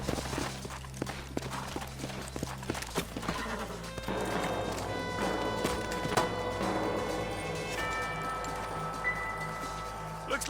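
Horse hooves clip-clop on the ground in the Red Dead Redemption western video game, with a brief whinny, steady and fairly close, mixed under game music and character voices.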